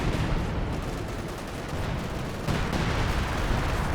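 Artillery fire and gunfire in a Company of Heroes match, a dense, steady barrage of booms and shots rumbling throughout, with a sharper surge partway through, no voices.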